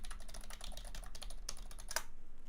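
Rapid typing on a small computer keyboard, a dense, steady patter of close keystrokes with a few louder clacks, alone without talk.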